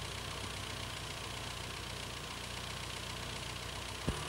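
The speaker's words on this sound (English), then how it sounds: "Now turn the same screw anti-clockwise until the engine speed starts to fall." A 1987 Austin Rover Montego turbocharged petrol engine idles steadily at close range while the idle speed screw is adjusted, a continuous even drone with a faint hiss and a single small click near the end.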